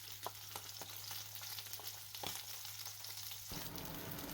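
Mackerel seasoned with salt and pepper frying skin side down in a pan, a steady dense sizzle and crackle with a low hum underneath, close and continuous, no talk.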